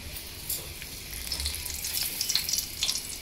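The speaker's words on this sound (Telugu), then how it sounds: "రెండు ఎండుమిరపకాయలు వేస్తున్నానండి." Dried red chilies fry in hot oil for a crispy ginger chili potato fry, giving a steady soft sizzle with small crackling pops that grow busier toward the end, heard alone.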